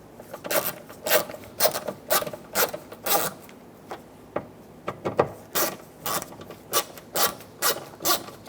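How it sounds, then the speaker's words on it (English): Repeated ratcheting while bolts are snugged down on a rear door lock actuator of a 2014-2018 Chevrolet Silverado 1500, a string of close, crisp clicking bursts in a steady rhythm with short pauses between strokes. "Snug the bolts down."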